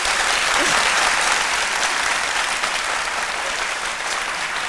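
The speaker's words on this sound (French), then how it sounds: "si vous pouvez applaudir tous ceux qui ont pris un petit déjeuner ce matin" A studio audience on a midday television show applauds, dense continuous clapping from a large crowd that stays loud and steady for nearly five seconds, easing only slightly at the end.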